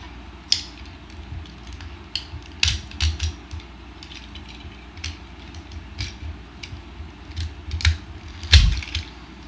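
Plastic parts of a Combiner Wars Transformers Protectobot First Aid toy being folded and moved, giving close, scattered clicks and small ratcheting snaps in irregular bursts.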